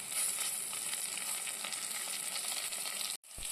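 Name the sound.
onion, crushed ginger, garlic and curry leaves frying for chicken curry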